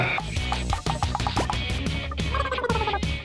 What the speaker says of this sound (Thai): นี่คือเสียงแปลงร่าง